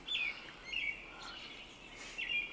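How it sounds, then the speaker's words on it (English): Birds chirp loudly outdoors in a few bright, quick bursts of song over quiet ambient hiss, with no voices in between. "These birds are loud as hell."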